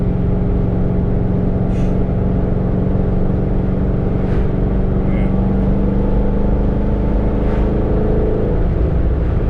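A Chevrolet Corvette C6 Z06 sports car engine rumbles at a steady, loud, close idle, a deep continuous drone with faint brief higher sounds over it.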